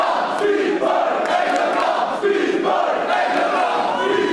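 A wrestling crowd at an indoor independent show chants loudly and steadily, split between two wrestlers, with the chant swelling and alternating over a dense roar of voices.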